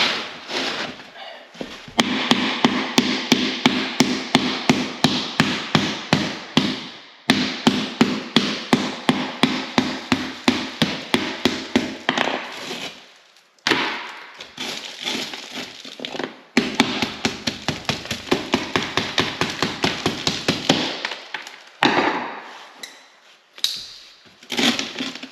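Rapid, steady hammer blows knocking a hole in cement board, dozens of sharp close knocks in long bursts with brief pauses between runs.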